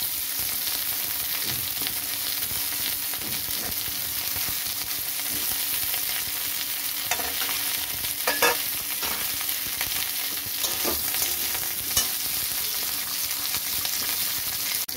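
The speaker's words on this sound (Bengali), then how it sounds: "এবার আমি আলু ছেড়ে দেবো।" Potatoes and cauliflower fry in fish-frying oil in a pan, a steady close sizzle with occasional stirring clatters and scrapes, no talking.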